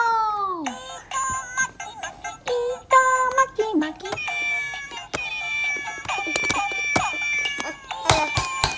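A meow with a falling pitch opens, followed by bright, bouncy music layered with other animal calls and clucking noises.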